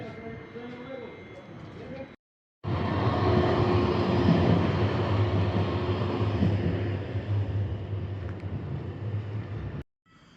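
A Polregio regional train rumbles steadily at Olsztyn Główny station, a loud continuous rolling drone with a faint tonal hum, framed by brief cuts at the start and end.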